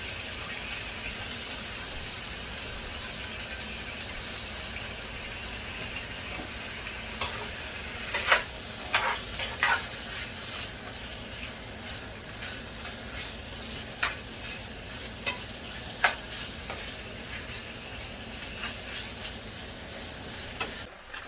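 Steak cooking in a pan for fajita-style nachos, giving a steady close sizzle with occasional sharper pops and crackles scattered through, no talking.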